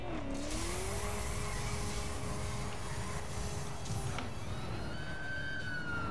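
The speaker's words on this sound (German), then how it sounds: "Verdammt langsamer Krankenwagen wieder mal." Ambulance siren in the driving game The Crew, a wailing tone sweeping up and down over a loud, constant game engine roar, with no talk over it.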